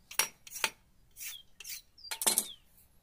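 A blade scraping the wooden part of a homemade opossum trap, several short rasping strokes in an uneven rhythm, close and clear with no talking.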